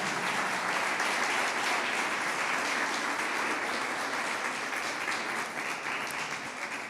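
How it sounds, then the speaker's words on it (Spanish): A church congregation applauds for its deacons, a dense, even wash of many hands clapping at a distance, sustained and steady for the whole stretch. "vamos a darle un fuerte aplauso al Señor por nuestros diáconos"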